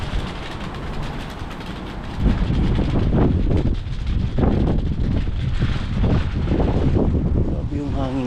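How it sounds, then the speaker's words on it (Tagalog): Strong wind gusts outdoors at Yonge and Steeles in Toronto, buffeting the microphone with heavy, rumbling bursts while someone talks throughout. "Lakas talaga guys ng hangin guys. Grabe."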